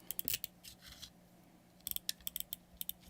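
Scissors snip close to the mic in rapid clicking bursts, a quick cluster of cuts, a pause, then a longer run of crisp snips against a quiet background.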